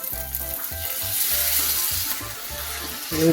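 Arepas sizzling as they cook in a pan, a steady close hiss throughout, rising slightly at the end, with a repeating low hum pulsing underneath and no talk.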